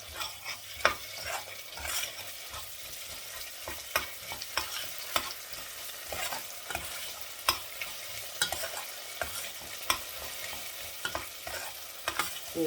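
Tomato paste sizzles and fries in a hot pan while a utensil stirs it, giving a steady crackle broken by frequent sharp scraping clicks, close and fairly quiet, with no voices.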